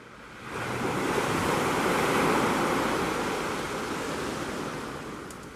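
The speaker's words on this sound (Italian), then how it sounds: "Si sedette su un grosso scoglio e restò a lungo a osservare le onde." Sea waves breaking on rocks at night, a broad steady rushing wash that swells up and slowly recedes, full and close without voices.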